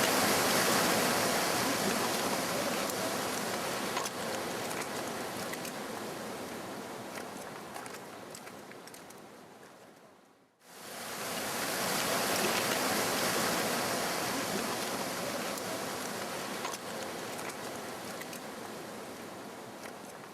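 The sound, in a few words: meltwater trickling off a glacier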